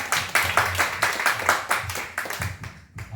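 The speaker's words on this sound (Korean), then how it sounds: "박수 한번 주세요" A church congregation claps together in a brisk, even rhythm, each sharp clap landing close and loud in a regular beat that carries on for several seconds.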